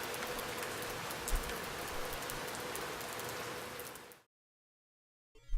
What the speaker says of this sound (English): If you want the rain looks heavier than real, you can just add noise.